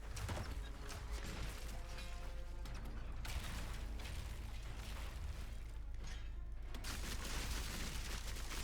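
Mechanical clanks, creaks and ratcheting bursts from a ballista firing in Path of Exile 2, layered with heavy booming impacts and a dense battle din, loud and continuous with no talk.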